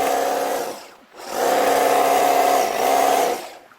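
A hedge trimmer cuts branches with a loud, steady motor whine heard close by. It dips briefly, then surges back and keeps running evenly before tailing off, with no talking over it.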